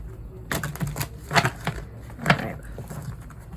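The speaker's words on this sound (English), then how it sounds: "Shuffle these cards a little bit more." Tarot cards are shuffled by hand in a few soft, papery riffling bursts, close and quiet with pauses between them.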